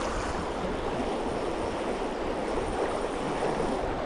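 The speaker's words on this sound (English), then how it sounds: "Got heavy water." Heavy, fast-flowing river water in high spring flows, a dense, even rushing roar held at constant loudness throughout, close by and with no voices.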